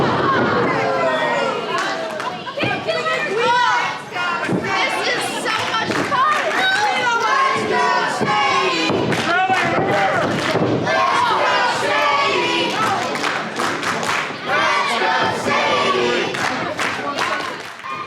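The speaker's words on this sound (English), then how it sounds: "The crowd firmly behind Sadie." A wrestling crowd at a live independent show cheers loudly for Sadie Belle, a dense, continuous roar of shouting and yelling voices, with sharp claps and thuds punctuating the din.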